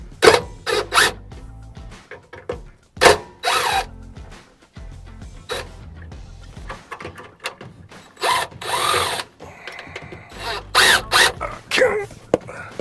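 Tool backing out 5/16 bolts from an RV step motor, close-up bursts of whirring and ratcheting separated by short pauses, with occasional mechanical clicks and handling noise.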